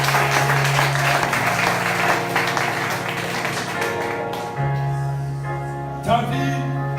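A church congregation applauding the Lord, steady crowd clapping over a sustained organ or keyboard tone, filling the room for several seconds before thinning out.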